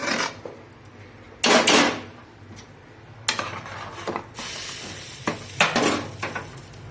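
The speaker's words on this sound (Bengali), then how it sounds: "ডালটা ফোড়ন দিয়ে দিলাম" A dal tempering with mustard seeds sizzles in the pot in loud bursts, with pan clatter and stirring knocks between quieter moments.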